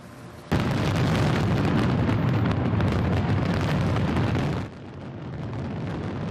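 Fireworks exploding over the Detroit River at night, a dense, loud barrage of overlapping booms and crackles that sustains for several seconds, then drops to a lower rumble of continuing bursts.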